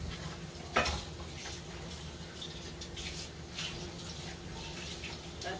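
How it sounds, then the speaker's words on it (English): Tap water runs steadily over a metal ice cream scoop being rinsed in a kitchen, a soft continuous splashing with a small clunk early on. "Now I'm going to rinse this off."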